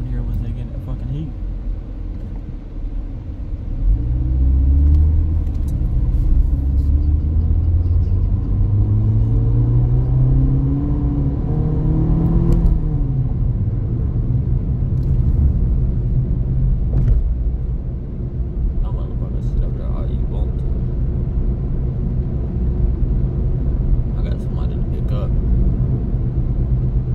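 Cars pass in busy traffic, a constant low rumble that swells as a vehicle goes by in the first half, while someone talks over the noise.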